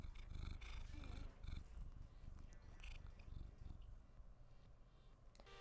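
A cat in a Danganronpa 2: Goodbye Despair playthrough purrs and growls in a rough, rumbling way, close and fairly loud, with some faint background noise and a sharp sound at the end.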